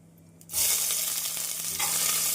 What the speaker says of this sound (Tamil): ஜீரகம் சோம்பு பொரியவும் நாம் நறுக்கிய வெங்காயத்தை சேர்த்து விடலாம்